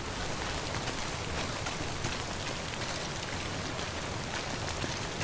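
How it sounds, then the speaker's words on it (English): Steady rain pours in the video game Death Stranding, a dense, even hiss of drops on surfaces that holds constant throughout with no voices. "Is it because it's raining?"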